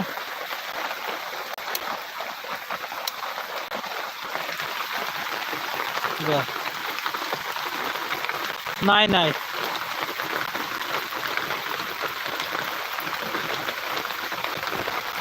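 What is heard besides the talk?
heavy monsoon rain in Konkan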